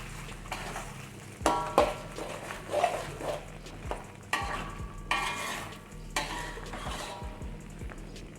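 Carrot and capsicum being stirred in a frying pan: irregular scraping clacks of a spoon against the pan over a low sizzle, several sharp knocks spaced through the passage, close and moderately loud, no speech.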